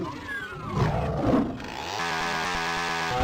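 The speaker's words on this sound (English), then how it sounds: "Come at me! I got a chainsaw!" Steady, rasping motor drone of a chainsaw in the video game Doom, taking over from a roaring, growling game din partway through, loud and continuous with no talk.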